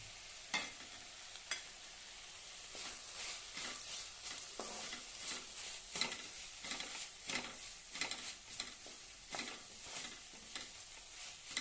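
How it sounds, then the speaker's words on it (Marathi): Coarsely crushed peanuts, half a bowl's worth, are stirred and turned with a ladle in a hot pan for potato chutney, giving repeated scraping strokes over a quiet, steady sizzle. "त्यामध्ये आपण पळी सारखी फिरवत राहूया खालीवर करूया"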